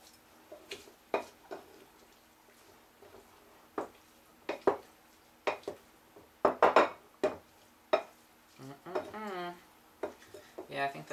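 Japanese-style cucumber salad being tossed with seaweed, giving scattered clinks and clatters of utensils against a bowl at an uneven rhythm, with a voice speaking briefly near the end.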